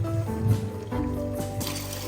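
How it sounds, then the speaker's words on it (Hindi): Boiling water trickles into soaked chickpeas mixed with turmeric, salt, chili and coriander, a soft, quiet pour and fill with gentle splashing near the end. "तो अब मैं इसमें बॉयल पानी मिला दूँ।"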